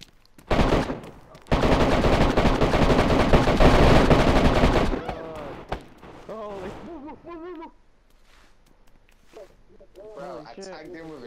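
Shotgun blasts in a chaotic multiplayer party video game, one sharp shot followed by a long, loud burst of gunfire and roaring noise, then it fades into animated talk and laughter.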